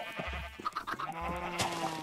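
A sheep bleats close by in a few wavering calls over a low steady hum, with no talk.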